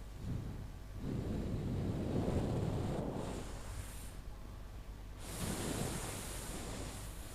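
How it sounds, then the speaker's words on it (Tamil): Gusts of wind buffet an open cricket ground during a quarter-final match, surging loud and rumbling in two broad waves with a steady hiss between them, no voices over it. "இப்படி தான் காற்று அடிச்சுன்னு இருக்கு."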